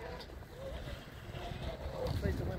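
Wind gusting and rumbling across the microphone beside a Pathfinder catamaran sailboat out on the water, a steady low roar that swells toward the end, with people talking over it.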